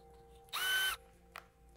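A Milwaukee cordless drill/driver whirs in a short burst of under half a second, then a brief second blip follows; otherwise quiet.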